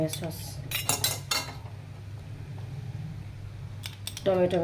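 A metal utensil clatters and scrapes against a pan while egg chow mein is stirred, in quick bursts at the start and again near the end, with a steady low hum underneath.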